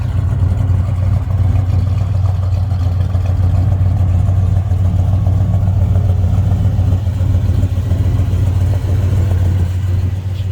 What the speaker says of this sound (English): Don't like the sound of a big block.